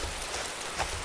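Rain falling in the video game DayZ, a steady soft hiss of drops on surfaces, even and continuous with no voices.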